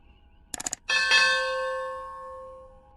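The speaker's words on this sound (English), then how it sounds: "Bing Wang, ring that bell, people." A small bell is rung with a few quick rattling taps, then one clear strike whose bright metallic tone rings out close and loud before decaying slowly over a couple of seconds.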